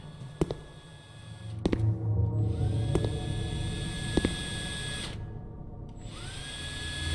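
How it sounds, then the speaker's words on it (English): A servo motor whine in a FNAF fan video game, rising in pitch, with scattered clicks and a low rumbling hum underneath. "You can hear a servo turning in the set."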